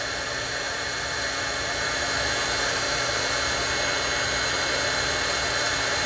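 A heat tool blasts steadily while puffing up craft paint, a loud, constant broadband roar of blowing air with no breaks, close and unchanging throughout.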